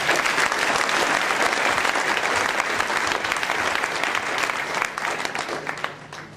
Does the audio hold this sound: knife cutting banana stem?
no